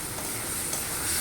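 Potato pieces are stirred and fried in a spice masala in a pan, giving a steady, dense sizzle with light scraping from the stirring, close and continuous with no voices.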